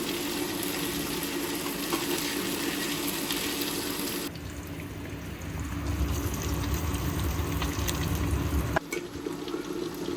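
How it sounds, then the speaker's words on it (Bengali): Mashed potato (aloo bhorta) frying in a pan on an electric stove, a steady close hissing sizzle that carries throughout, with a brief dip partway and a sharp clatter near the end. "এখন আমি আলু ভর্তাটা ভেজে নিচ্ছি"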